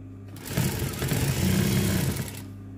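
A sewing machine runs a steady burst of stitching for about two seconds, joining fabric onto a shalwar, a loose trouser, close and fairly loud with a whirring motor hum.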